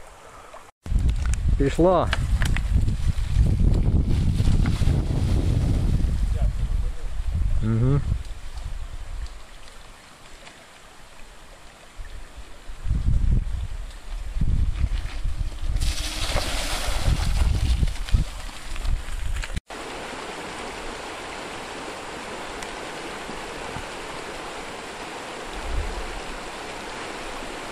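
Rushing stream water and splashing dominate, with a voice speaking briefly near the start; the water noise surges, then drops to a steadier wash.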